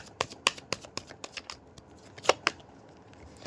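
Playing cards are handled close up in a run of crisp, sharp snaps and flicks, irregular but quick, as the deck is shuffled and cards are pulled one after another in an otherwise quiet room.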